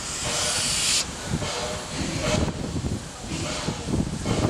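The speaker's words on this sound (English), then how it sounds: "Australia's favourite steam train." A loud burst of hissing steam opens, then fainter puffs and hisses continue from the Puffing Billy steam locomotive in Australia as people talk nearby.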